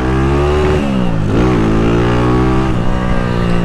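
A Honda Titan motorcycle engine, just fitted with a replacement CDI after an electrical fault, revs loudly up close, its pitch climbing, dipping and surging again in steady throttle blips.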